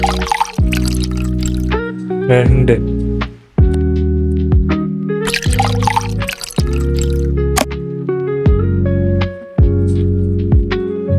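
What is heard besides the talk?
pouring water into pot for spicy Maggi noodles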